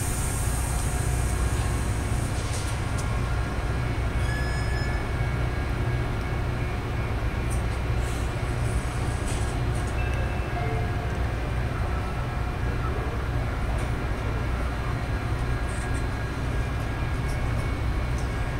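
METRA commuter train passing at night in Glen Ellyn, a long steady rumble and rolling roar of railcars at moderate distance, continuous throughout with faint higher clatter, no clear talk.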